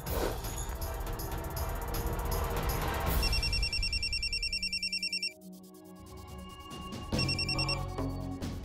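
A telephone rings in repeated bursts of bright electronic trilling, loud and close, with a short gap before the ring resumes.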